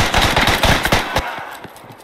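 Rapid machine-gun bursts in the World War I shooter Beyond the Wire, loud and close for about a second, then tailing into scattered fainter distant shots.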